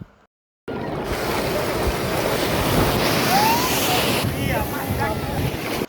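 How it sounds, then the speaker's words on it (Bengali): Large sea waves roll in on the beach at Cox's Bazar in a steady, loud roar, while a strong sea wind buffets the microphone throughout. "এখানে আসলে সাগরের বড় বড় ঢেউ আর সাগরের হাওয়া মন উতাল পাতাল করে দেয়"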